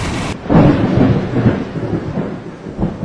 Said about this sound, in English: A sudden lightning strike,